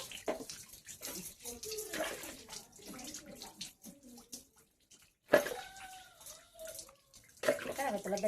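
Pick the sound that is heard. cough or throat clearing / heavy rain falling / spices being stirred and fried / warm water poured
warm water poured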